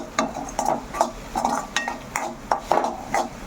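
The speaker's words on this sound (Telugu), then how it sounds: "ఇలా బాగా ఫ్రై చేసుకోవాలి" Egg frying in a pan while a utensil stirs and scrapes it, giving repeated close metallic clinks and scrapes over a soft, steady sizzle, with no talking.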